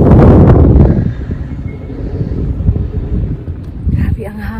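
Strong wind buffeting the microphone at a hilltop castle ruin in Valkenburg, Limburg, loud rumbling gusts at first, then easing into a steadier blustery roar, with a voice speaking over it.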